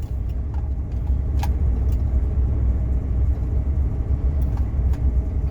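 An old Rolls-Royce engine idles with a steady, low, even rumble, close and continuous, with faint small clicks and rattles on top.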